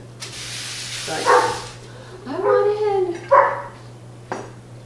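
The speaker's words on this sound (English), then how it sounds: "You hear my dogs? Like, I want in." Dogs outside wanting to come in, giving a few muffled barks and whines at moderate distance over a steady background hum, with a voice talking in a kitchen.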